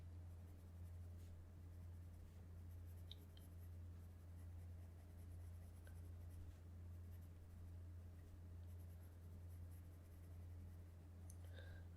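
Faber-Castell Pablo colored pencils scratch softly across drawing paper in continuous light strokes, faint and close over a low steady electrical hum.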